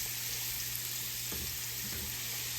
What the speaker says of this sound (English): we're going to saute these onions with this bacon till they nice and translucent